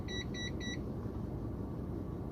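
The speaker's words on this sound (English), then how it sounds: "What is beeping at me?" Three quick high-pitched electronic beeps from a multimeter testing a 150-watt power inverter, evenly spaced, over a steady low background hum.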